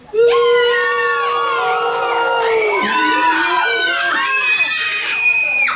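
Children at an early learning college vacation-care talent show cheer and scream loudly together, a continuous high-pitched crowd of young voices with rising and falling shouts and whoops, close and unbroken for several seconds.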